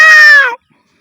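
A single short, high, nasal call from a human voice imitating a peacock, loud and close, cutting off abruptly into silence.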